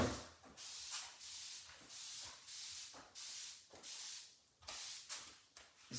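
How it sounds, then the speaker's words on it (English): Several short hissing bursts from a Febreze air freshener spray can indoors, repeated in a loose rhythm of about eight sprays, each a bright airy hiss with brief gaps between. "It's just spray the Febreze"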